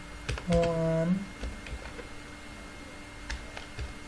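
Keys clatter on a computer keyboard while code is typed, a scattered run of light clicks and taps, with someone speaking briefly near the start and a faint tone underneath.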